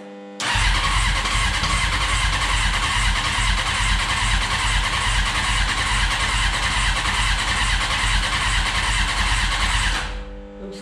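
A Honda CBR 900 RR motorcycle engine cranks steadily and loudly for about ten seconds with a fast, even churning rhythm, never catching or firing, then cuts off abruptly.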